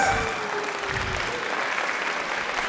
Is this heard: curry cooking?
no